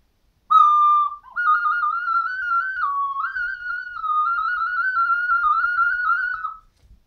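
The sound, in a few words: high-pitched Chinese ocarina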